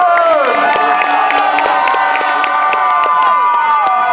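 A loud crowd at a freestyle event in Schwerin cheers and whoops continuously, with shrill whistles and scattered clapping mixed into the roar.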